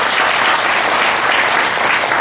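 A crowd at a spiritual talk gives a loud, sustained round of applause, a thick continuous clatter of many hands that stays even from start to finish.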